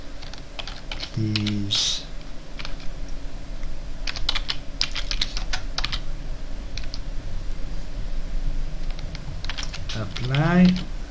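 Keys clatter on a computer keyboard in steady bursts of typing while text is entered into a Windows image editor, with a few brief spoken words over the clicking.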